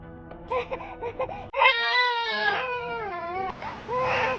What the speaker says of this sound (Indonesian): Ada suara bayi.